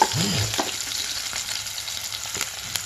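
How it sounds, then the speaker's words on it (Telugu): Tomato pieces frying in a pan for a potato curry, a steady close sizzle with a few stirring scrapes and no talking. "టమాటా ముక్కలు బాగా ఎర్రగా వేగాలి"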